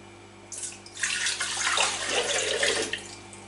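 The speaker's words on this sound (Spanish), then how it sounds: "vamos a coger el zumo naranja, lo vamos a verter" Orange juice is poured into a Thermomix jug for a mock orange tocinillo de cielo, a steady close splashing stream that starts abruptly and keeps running for about three seconds, with no talk.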